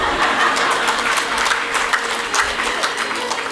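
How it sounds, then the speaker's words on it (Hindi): A seated audience at a spiritual gathering claps together in sustained, dense applause, loud and continuous, with faint voices mixed in. "जिस तरह से आप पारस को तालियों का साथ दे रहे थे ना"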